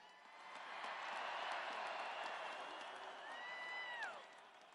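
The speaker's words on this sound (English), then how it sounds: "Let's give the Super Bowl IV team a round of applause." A large outdoor crowd at the Kansas City Chiefs championship parade applauds and cheers, a broad distant roar of clapping that swells and holds steady for several seconds.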